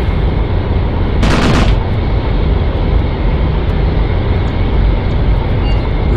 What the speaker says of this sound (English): We are under heavy fire suddenly.